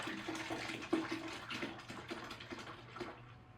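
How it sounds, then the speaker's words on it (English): Half and half being poured from a quart container into a gallon pitcher, a steady liquid gurgle with rhythmic glugs lasting throughout, fairly quiet and close, with no talking. "Pour that into, this is a gallon pitcher."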